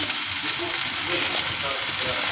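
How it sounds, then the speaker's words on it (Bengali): Tomatoes with turmeric, cumin and Kashmiri chilli powder frying in a pan for a soybean curry, a steady close sizzle with faint stirring throughout, no talking. "এবার এগুলোকে আমি ভালো করে কষিয়ে নেব"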